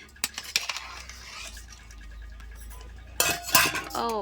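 Pots and steel dishes clink and clatter in a village kitchen as boiled eggs are shifted into another vessel, with a few sharp knocks early, a quiet stretch, then a cluster of bright metallic clanks near the end.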